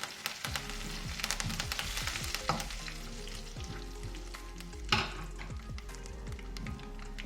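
Mustard seeds, chana dal and urad dal with curry leaves frying in hot oil for sabudana khichdi: a close, continuous sizzle full of sharp crackles and pops, with occasional stirring scrapes and no voices.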